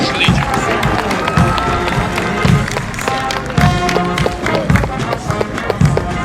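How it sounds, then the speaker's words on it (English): Outdoor crowd at a Barbados Independence Day ceremony applauds the Barbados Legion, dense sustained clapping with some cheering layered over a busy background and occasional talk. "Let's give a round of applause to the Barbados Legion"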